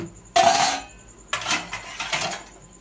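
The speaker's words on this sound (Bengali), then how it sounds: "এবার এটাকে আমি ঢাকা দিয়ে দেবো" A lid lands on a pan of Bengali crab curry with a sharp metallic clatter, followed a second later by a second rattling scrape of metal on metal as it settles.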